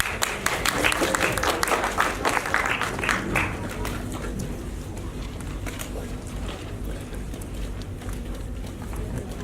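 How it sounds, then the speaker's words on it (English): A school audience at a climate change summit applauds a class presentation, with close, loud, dense clapping at the start that softens into a steadier, more distant patter. "Give them an enormous round of applause."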